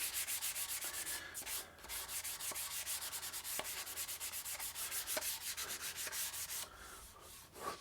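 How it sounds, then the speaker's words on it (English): Close, rhythmic back-and-forth strokes of 240 grit sandpaper rubbing a guitar body's finished surface, about two strokes per second, with a few short pauses and a final lighter swipe. "scratches left by the 240 grit sandpaper. So it's just a quick little rub."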